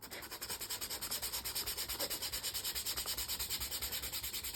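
Sandpaper of 100 grit rubs back and forth over the plastic coating on a boot toe, a steady rhythmic scratching close to the microphone with no talking.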